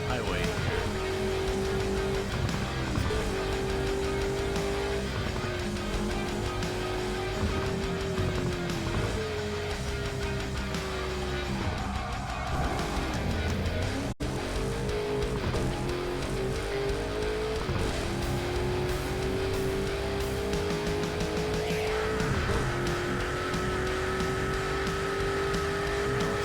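Car cruising on a highway in Burnout Paradise Remastered, the engine droning loud and steady with gear changes and surges in pitch, a brief squeal of tires partway through.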